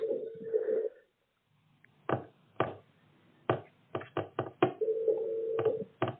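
An unanswered telephone call: a ringback tone sounds through a phone, breaks off, and returns near the end, with a series of sharp knock-like thuds in between.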